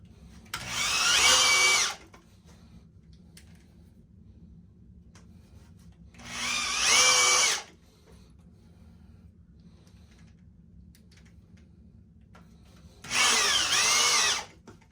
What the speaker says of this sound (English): 2 screws in each 2x4.